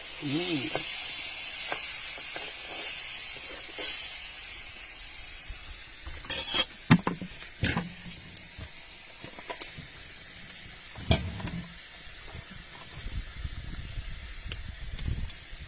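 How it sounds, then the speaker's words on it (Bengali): Spiced masala fries in a pan at an outdoor cookout in the Sundarbans with a loud, steady hiss. Water is added, and bursts of clattering stirring and utensil clanks break into the sizzle. "মশলাতে এবার জল দিয়ে দেওয়া হচ্ছে, একটু অল্প জল করো, বেশি না।"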